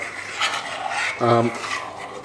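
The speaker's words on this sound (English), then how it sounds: "you hear the scrape at the bottom" A spoon scrapes and rubs against the bottom of a slow cooker holding pulled pork in several rasping strokes, close up, with a brief low hum partway through.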